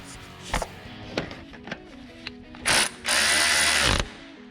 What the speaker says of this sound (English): I'm going to go ahead and tighten my top bolts.